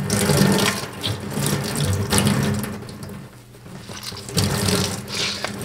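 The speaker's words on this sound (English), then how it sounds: "So I'm going to take this over to the sink and drain it out" Water running and draining at a sink while felting a witch hat, a loud, steady splashing flow that rises and dips, close by, with no talking.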